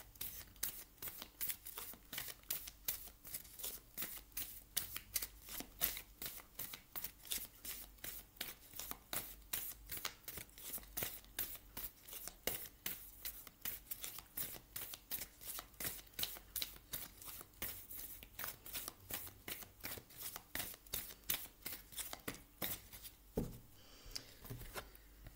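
Oracle cards from a Sacred Destiny deck are shuffled steadily, a long run of crisp, rapid riffling flicks repeating at an even rhythm, close and clear with no talking.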